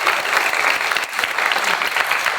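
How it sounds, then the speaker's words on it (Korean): Dense applause from a youth conference audience at a church talk on Christian dating, a steady wash of many hands clapping without pause for a couple of seconds. "박수 한번 주시기 감사합니다"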